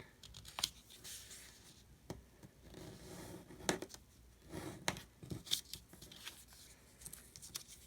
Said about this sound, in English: And we're going to cut inside this part.